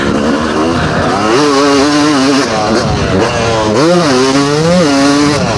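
A vintage motocross bike, a Yamaha 250 YZ or Honda 500 CR, revs loudly and close on a soft track, its engine note climbing and dropping in repeated throttle blips with no talking.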